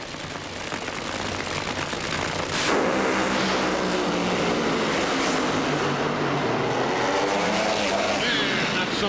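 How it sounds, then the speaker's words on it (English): A nitro funny car roars down the drag strip during the 1999 NHRA Advance Auto Parts Nationals in Topeka, a loud, continuous, raw engine blast with the crowd and ambient noise underneath, rising sharply in intensity partway through. "Let's see if the Nitro Mater, that's what Scotty Cannon calls his car, can get by the first round"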